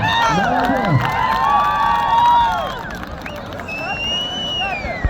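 At an outdoor Navruz kurash wrestling event, a close, lively crowd cheers, with shouts and whoops rising and falling over steady hubbub, and voices calling out among them.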